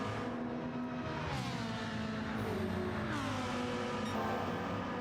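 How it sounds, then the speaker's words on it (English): A McLaren race car engine in Gran Turismo 7 howls steadily at high revs. Its pitch rises and dips through gear changes, with other cars droning close by. "I think that McLaren sounds really good"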